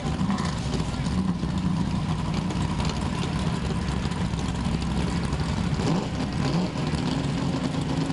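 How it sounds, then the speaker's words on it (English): Tour-type modified race cars roar around the track at a New England short-track race, a steady, loud blend of engines revving and droning throughout, with a voice talking over the noise. "these cars are tour-type modifieds, and they're really, really nice cars"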